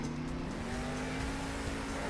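Monster trucks boosting and overtaking during a wheel race in the video game Monster Jam Steel Titans 2: a steady, loud engine drone with continuous racing roar and no clear breaks.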